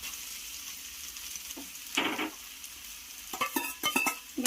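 Cooked rice with a fried egg being mixed in a hot pan, a soft continuous sizzle broken by scraping and stirring strokes, quiet and close, without talk.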